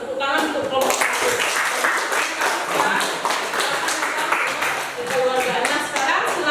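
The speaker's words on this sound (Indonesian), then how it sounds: "Ya, tepuk tangan untuk kelompok 1." A classroom group claps for a student team after their performance, a brisk scattered patter of many hands, fairly close and steady, with voices murmuring underneath.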